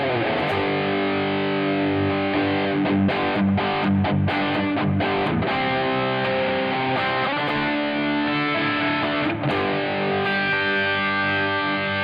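Electric guitar played through a Tank-G hybrid multi-effects unit on a clean-with-distortion setting: thick, sustained distorted chords and ringing notes, loud and alone, with a few sharp changes between chords.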